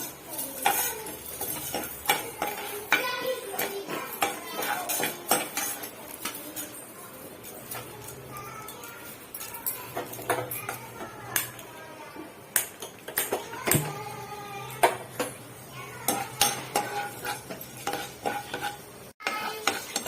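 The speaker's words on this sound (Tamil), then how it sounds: "கடலைப்பருப்பு போடுங்க முதல்ல அப்போ இது உளுத்தம் பருப்பு ரெண்டும் வந்து நல்லா கொஞ்சம் கோல்டன் ப்ரௌன் ஆகட்டும்" Chana dal and urad dal roast in oil in a kadai, with frequent sharp clinks and scrapes of a metal spoon against the pan over a low sizzle. The stirring is close and busy throughout, with no speech.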